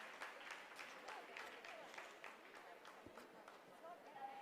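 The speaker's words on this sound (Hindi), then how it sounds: "आप इस तालियों के गड़गड़ाहट को सुन सकते हैं" Scientists in mission control applaud during the Chandrayaan-3 lunar lander's descent phase. The clapping is faint, steady and distant, blended with a murmur of voices.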